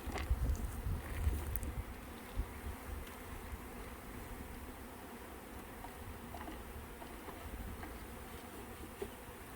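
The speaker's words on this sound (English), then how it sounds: "Slide as many as you can together so you're not fighting bees the whole time." Steady insect buzzing from a crowd of honeybees around a hive as frames are slid together, a dense low drone with a louder burst near the start and no voices.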